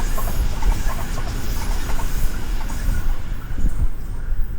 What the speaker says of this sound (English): I'll just wait till the train goes.